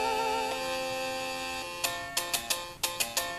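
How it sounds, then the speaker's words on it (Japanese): Chiptune music from The Legend of Zelda on the Famicom Disk System, played on a Neo Famicom clone, with a series of bright, ringing bell chime strikes entering over a steady synth tone near the end. "鐘の音もちゃんと鳴ってますよね。"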